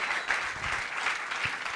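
A church congregation claps during a service, a close, continuous wash of applause lasting under two seconds with no speech over it.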